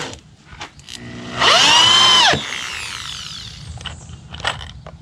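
A power drill fitted with a star bit spins up and drives a screw for about a second. The ratcheting whir is loud and close, with quieter mechanical clicks before and after it.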